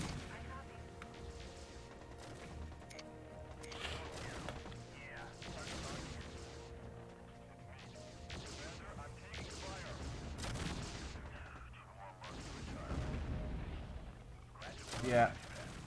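Rapid autocannon fire from mechs in the video game MechCommander 2, with repeated gunfire bursts and explosive impacts in a busy battle mix, someone talking over the action throughout.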